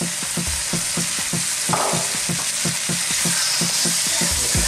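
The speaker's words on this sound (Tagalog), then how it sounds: "Mix po natin siya. I-mix lang natin siya ng ganito." A Filipino-style spaghetti sauce of tomato sauce and light brown sugar is stirred in a sizzling pan. The spoon scrapes in a quick, regular rhythm over a constant close fry, with no talking.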